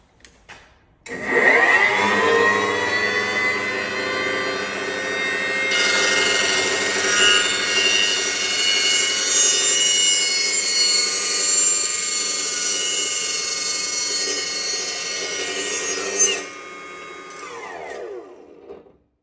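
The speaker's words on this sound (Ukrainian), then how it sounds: "Зараз ми виставимо на 1300 обертів, це буде алюміній." A 3500 W cut-off saw set to 1300 rpm bites into aluminium, a loud sustained whining, screeching cut that starts abruptly, rises in pitch partway through and then spins down at the end.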